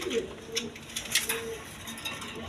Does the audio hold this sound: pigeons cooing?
yes